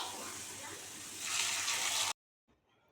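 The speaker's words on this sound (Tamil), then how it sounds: "இப்போ வெங்காயம் நல்லா செவந்துருச்சு. முருங்கைக்காயோட சேர்த்து கிளறிக்கலாம்." Drumsticks stirred into onions frying in oil in a pan, a steady loud sizzle that swells for a moment and then cuts off abruptly, leaving near silence.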